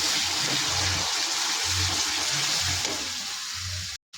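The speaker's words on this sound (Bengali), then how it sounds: "অল্প জল দিয়ে কষবো, তাহলে তলায় মশলাটা লেগে যাবে না।" Water goes into frying spices for a chicken curry, producing a steady, close sizzling hiss with low bubbling pulses throughout, cut off briefly just before the end.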